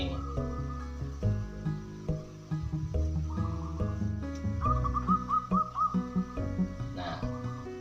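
A perkutut (zebra dove) coos nearby in soft, rhythmic, repeated tonal notes, with a run of quick warbling pulses in the middle and quiet gaps between phrases.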